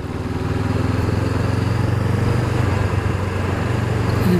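A 2019 Honda CB500F engine lugs in third gear with a steady, close, low mechanical drone that continues unbroken throughout, with no talking.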